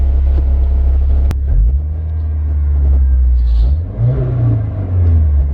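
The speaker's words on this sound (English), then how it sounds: "let me get some Rev Clips for you guys from inside the cabin." Subaru Forester XT fitted with an Invidia Q300 catback exhaust, heard from inside the closed cabin as the engine revs, a loud, steady low rumble that swells and climbs in pitch with each rev.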